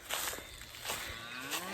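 Cattle moo in a birch grazing park where calves and cows are pastured, with long loud lowing calls overlapping close by.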